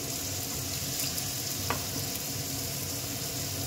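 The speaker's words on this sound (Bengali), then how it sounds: "আলু শুটি দিয়ে আমি ভালো করে ভাজবো।" Potatoes and peas fry in a pan with a steady, dense sizzle throughout, a brief stirring scrape midway, no voices.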